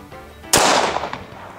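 A single .45 ACP pistol shot with Winchester 230 grain full metal jacket ammunition fired at body armor, one sharp loud crack followed by a decaying echo tail.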